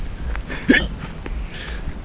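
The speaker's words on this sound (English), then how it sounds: "I have chronic hiccups right now" A single sharp hiccup from a person sailing outdoors near a troop of monkeys, loud and close, with faint ambient background and a couple of softer breathy sounds after it.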